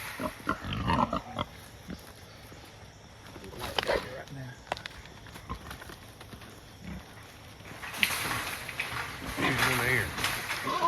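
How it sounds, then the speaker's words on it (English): Wild hogs grunt and shuffle around a trap, giving scattered close grunts and rustling footsteps in uneven bursts over low outdoor background noise, while someone talks quietly at times. "those are some big pigs"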